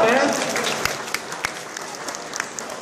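Comic Con crowd at a Storage Hunters auction in Wigan claps for a winning bidder, a brief burst that starts fuller and thins into scattered claps within three seconds, with a voice and crowd noise at the start.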